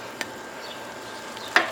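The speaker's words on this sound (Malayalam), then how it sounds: "നമുക്ക് നന്നായിട്ടൊന്ന് ഇളക്കി കൊടുത്തിട്ട്" Pepper chicken with masala being stirred in a pan, giving a faint sizzle and two sharp scraping clicks of the spoon against the pan.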